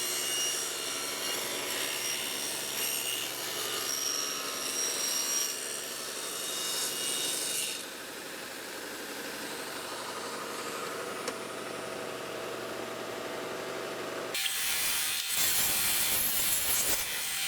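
A power saw cuts scrap wood blocks and slots with a jig, giving a steady, fairly faint whine under a low motor hum that drops away near the end, followed by a brief burst of louder noise.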